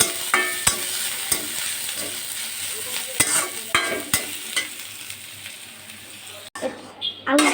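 Onions frying for a potato chop filling, a steady sizzle broken by repeated sharp spoon knocks and scrapes against the pan.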